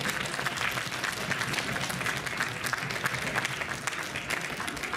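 A crowd at a pony fan convention's cosplay show applauds a cosplayer, a sustained, even roar of clapping that sounds somewhat distant and quiet and holds steady throughout.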